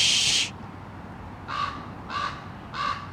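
A pet bird gives three harsh, loud caws spaced evenly after a brief burst of high screeching, close by indoors with no talking.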